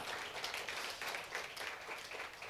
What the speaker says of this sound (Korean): 그 노고에 박수를 보내주시기 바랍니다